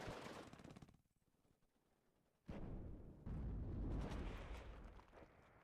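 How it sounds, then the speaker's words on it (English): Mortar rounds and battlefield blasts in the WARNO real-time strategy wargame, with a loud burst at the start, a quieter lull, then heavy sustained explosive rumble and crackling fire close by. "We have a mortar, as it seems, shooting at the Milan 2 position."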